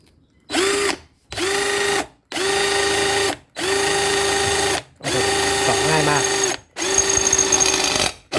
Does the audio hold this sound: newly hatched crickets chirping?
no